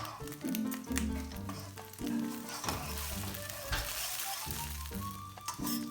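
Egg sizzling in a pan over lowered flame while being scrambled with a spatula, steady frying hiss with repeated scraping and stirring strokes, close and fairly loud, no talking.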